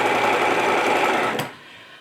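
Sewing machine running a straight seam with the presser foot edge as a guide, a loud steady whir for about a second and a half before stopping abruptly, with no talk.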